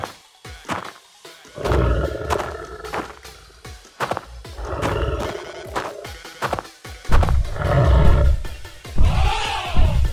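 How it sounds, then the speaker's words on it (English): A tiger roars repeatedly amid crashes and thuds in an animal battle video game, loud bursts recurring in an irregular rhythm across the fight with a mammoth and buffalo. "Oh, this is a tiger!"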